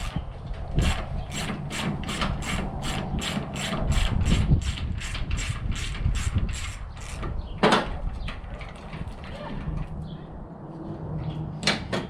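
Quick, evenly spaced clicks of a ratchet turning a 7/16 socket on a door bolt of a 1956 Chevy sedan, close and fairly loud, followed by a brief pause and a few slower clicks.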